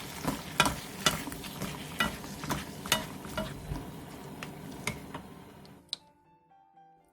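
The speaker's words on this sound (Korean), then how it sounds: "들기름, 올리고당, 통깨, 대파, 청양고추 넣고 가볍게 뒤적여 마무리해주세요" Stir-fried pork being lightly tossed in a pan with perilla oil, sesame seeds, scallion and chili: close, steady sizzle under repeated scraping and clacking of a utensil against the pan, ending with a sharp knock before near silence.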